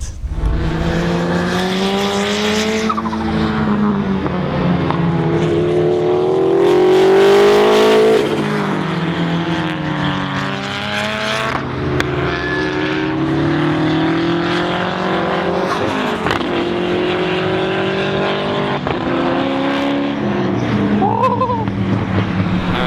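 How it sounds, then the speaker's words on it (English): A race car engine screams continuously at high revs, rising and falling through gear changes as it drives a full lap, loud and close. "So Jeremy only took the car around like for one hot lap"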